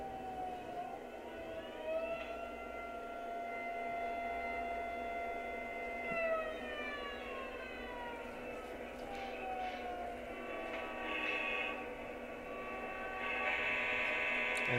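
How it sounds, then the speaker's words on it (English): An air raid siren on a model train layout sounds one long wailing tone whose pitch slides up and down, steady and moderately loud over a faint background hum. "Let's hear that air raid siren."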